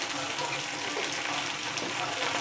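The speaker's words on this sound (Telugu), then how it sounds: "అలా గోల్డెన్ బ్రౌన్ కలర్కి వచ్చిన తర్వాత చికెన్ లివర్ వేసేసి" Chicken liver hits a hot pan with curry leaves already browned in oil, giving a loud, steady, dense sizzle that holds without a break, close up and with no voice over it.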